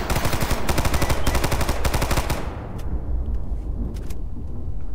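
Gunfire rattles through the video game Stalker Anomaly in the Yantar area. It opens as loud, fast automatic bursts for over two seconds, then thins into scattered distant single shots, with no one speaking.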